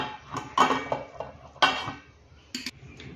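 Metal clanks and clinks of a lid settling onto a cooking pot of eggplant curry, a few sharp close knocks spaced over a few seconds with no talking.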